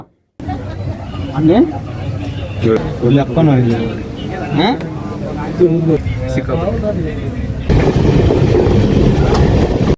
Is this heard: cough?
no